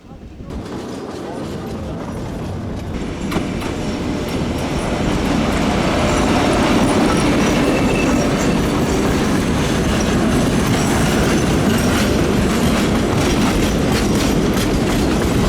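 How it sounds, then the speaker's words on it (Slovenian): A heritage museum train on the Šargan Eight railway runs along the track with a loud, steady rumble and rhythmic clickety-clack of wheels, heard close and continuous. "Na cilj vlak spet pripelje po voznem redu."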